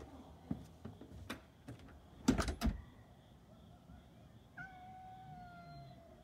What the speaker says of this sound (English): Why is there a kitty cat here?